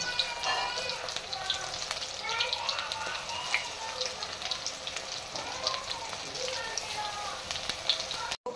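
Small onion pakoras frying in hot ghee give a steady, dense crackle and sizzle, a continuous hiss with scattered pops that runs unbroken to the end.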